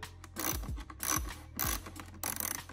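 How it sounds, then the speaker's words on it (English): Ratchet clicking while loosening a 6 mm bolt on the air box of a BMW F34 340i GT with B58 engine, three or four quick bursts of close, sharp mechanical clicks. "Then you want to loosen up this 6 mil to separate the air box from the inlet."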